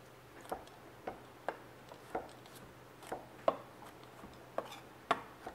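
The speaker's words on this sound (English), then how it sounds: "And I need 4 garlic cloves. And I'm going to finely mince them." A knife finely minces garlic cloves on a board, producing sharp, distinct taps at a steady unhurried pace, about a dozen over a few seconds, close and crisp against a quiet room hum.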